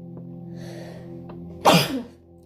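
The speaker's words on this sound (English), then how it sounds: "Excuse me, I knew I was going to sneeze." A single sharp sneeze bursts out close by after a quiet indoor stretch with a low steady hum, then fades quickly.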